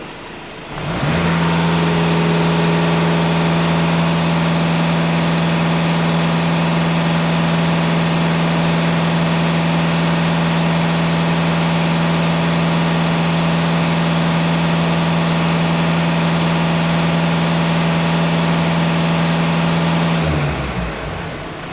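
Volkswagen Golf 2.0 TDI diesel engine held at full throttle during a stationary rev test, a loud, steady, sustained drone with a strong low hum that runs unbroken for about twenty seconds before cutting off.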